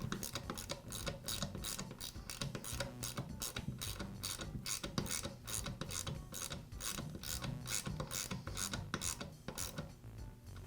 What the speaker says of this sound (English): This is a lock nut, and I don't need to tighten it down too much